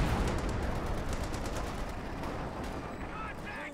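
Rapid gunfire and distant explosions crackle through a World War II strategy game battle, with steady dense shots throughout under a continuous din, while a caster talks over the action.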